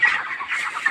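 A flock of 24-day-old broiler chickens clucks on a poultry farm, giving overlapping short, nasal calls that are steady and fairly close, with no voices.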